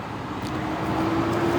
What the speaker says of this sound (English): It's always a big truck coming by.